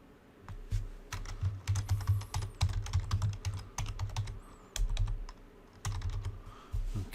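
Keys on a computer keyboard are typed in quick, uneven bursts of close, crisp clicks, with short pauses between runs.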